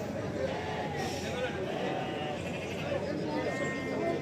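Lambs and sheep bleat repeatedly at a farm, wavering calls overlapping each other at moderate distance while people talk throughout.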